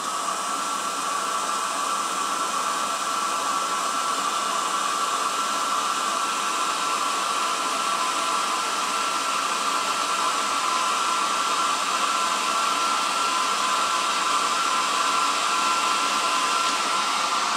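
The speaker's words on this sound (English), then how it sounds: "All I'm going to do is use a hairdryer." A hair dryer blows steadily at close range, drying an airbrush, a constant loud whooshing drone with no pauses and no voices.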